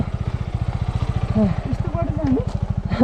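A motorcycle engine idles and revs with a fast, throbbing putter, close by, while voices call out faintly over it.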